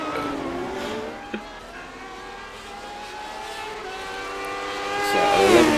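A Lotus 79 race car in the iRacing game crawling through a tight hairpin, engine note held low and steady then climbing in pitch and loudness as it powers out of the corner.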